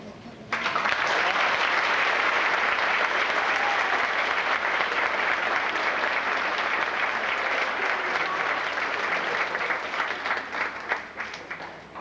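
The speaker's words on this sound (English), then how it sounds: "Let's give her another round of applause." A large crowd applauds loudly and steadily for several seconds at a middle school eighth-grade promotion ceremony, the clapping dense and sustained without pause.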